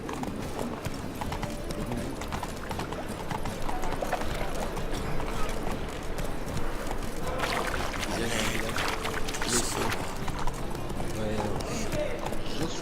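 A horse's hooves clip-clop at a steady canter in The Witcher 3, loud and close under game ambience throughout.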